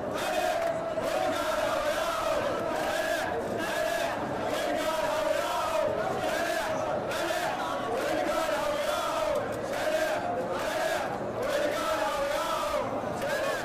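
Large protest crowd chanting together outdoors at an anniversary rally for the Tishreen uprising in Dhi Qar, a dense, steady roar of many voices with rhythmic surges, loud and continuous throughout.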